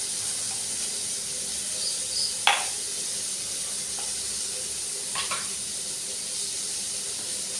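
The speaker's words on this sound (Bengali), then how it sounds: "আমি একসাথে কেন কুচনো পেঁয়াজ আলু আর পেঁপেটা ভেজে নিচ্ছি" Chopped onion, potato and papaya frying in a pan give a steady, soft sizzle and hiss, with a few brief clatters of stirring spaced through.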